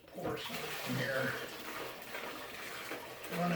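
Liquid pours steadily into a container while siphoning fuel from a thumper engine in cool weather, a continuous splashing trickle close by with someone talking over it.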